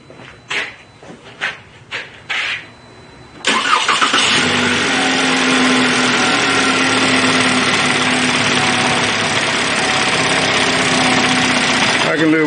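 A 2013 Chevy Malibu with a no-start fault and check engine light: a few short bursts of talk and noise, then the engine catches and settles into a steady, loud idle that runs on to the end.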